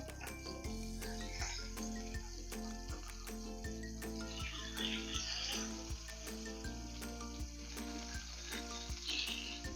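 Kingfish (surmai) slices fry in oil in a pan, giving a steady, close crackling sizzle with regular faint clicks and small pops running throughout.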